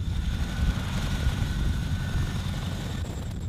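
Steady, loud rumbling drone of a Chinook dual-rotor U.S. Army heavy-lift helicopter, continuous and close, with no voices over it.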